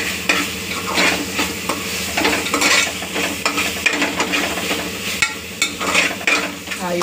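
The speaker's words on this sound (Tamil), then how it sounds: "இது நல்லா வதங்கிடுச்சு. எண்ணெய் பிரிஞ்சு மேலே வருது பாரு." Onions sautéing in oil in a pan, with a steady, close sizzle and bursts of stirring and scraping against the metal throughout, without speech.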